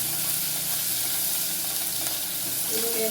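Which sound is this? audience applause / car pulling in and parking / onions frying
onions frying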